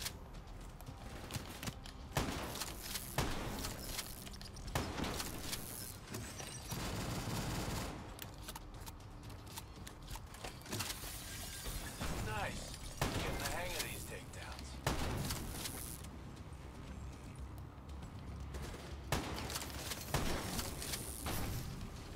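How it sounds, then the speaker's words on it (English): Shotgun fire from Call of Duty Black Ops III, a New World campaign mission: loud, heavy blasts repeated throughout among other gunfire and game combat noise, with someone talking over the action. "The shotgun's pretty fucking sick."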